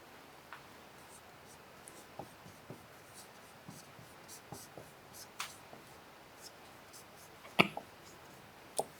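Marker or chalk strokes on a classroom board: faint, scattered scratches and taps across a quiet room, a few sharper ticks near the end.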